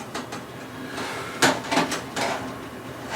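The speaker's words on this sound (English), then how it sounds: "We go ahead and open this up and pull these trays out." A food dehydrator holding venison jerky strips is opened and its trays pulled out, giving a few soft plastic clacks and sliding scrapes close by, with a brief louder knock in the middle.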